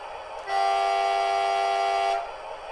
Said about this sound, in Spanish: Silbato corto.